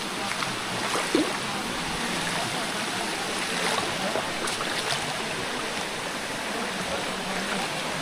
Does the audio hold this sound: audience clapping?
no